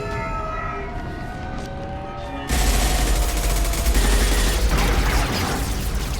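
Gunfire from the video game Mass Effect 2: a soft tonal game backdrop with faint whooshes gives way to a loud, sustained rattle of automatic weapons fire that keeps going to the end.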